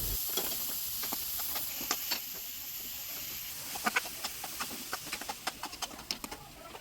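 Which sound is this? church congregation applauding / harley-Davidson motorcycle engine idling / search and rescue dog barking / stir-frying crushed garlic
stir-frying crushed garlic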